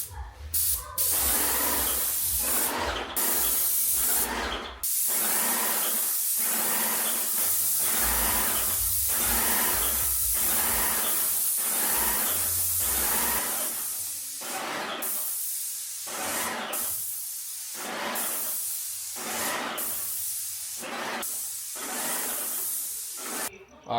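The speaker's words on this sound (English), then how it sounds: "I got the paint sprayer all primed and ready to go" Paint sprayer blasting primer onto interior room walls: a loud, steady airy hiss in long bursts with short pauses between passes, continuing through the whole stretch with no talking.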